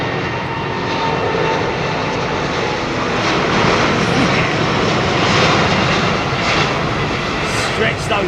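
Airliner departing Heathrow in wet weather, engines at full thrust with a loud, rough crackling roar that swells and holds close by, while someone talks over it.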